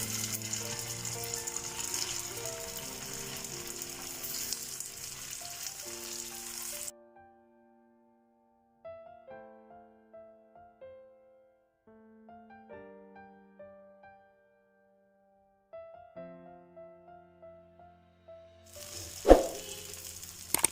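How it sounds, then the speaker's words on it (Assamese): Aloo poha tikkis sizzle in refined oil on a hot tawa over low heat, a steady frying hiss that drops out for a stretch, leaving sparse soft clinks and scrapes before the sizzle returns. "কম জুইত এইদৰে ভাজি ৰঙচুৱা কৰি ল'ব লাগিব"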